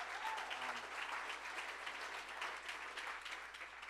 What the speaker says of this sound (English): If we could give a nice applause to them